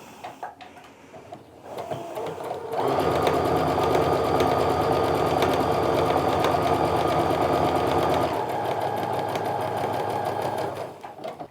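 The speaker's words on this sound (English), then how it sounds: "I'm just going to sew down now the other side of that drawn line" A sewing machine runs steadily for about eight seconds, stitching a quilting seam in fabric along a drawn line, with a loud continuous whirring hum that starts abruptly and stops, leaving quieter handling sounds around it.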